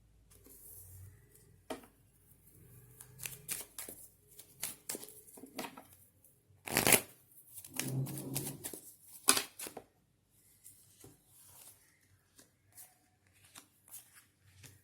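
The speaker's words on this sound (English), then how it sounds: "Now let's pull some tarots." Tarot cards being shuffled by hand in a quiet room, a run of soft papery flutters and taps, with one sharper riffle burst near the middle and faint scattered handling sounds afterward.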